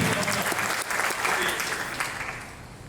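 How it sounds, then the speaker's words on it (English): Loud crowd applause at a chamber of commerce awards dinner, dense clapping filling the room that gradually fades toward the end. "how about a round of applause for our buddy?"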